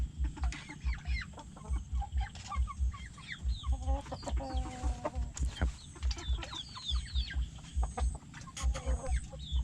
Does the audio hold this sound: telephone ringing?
no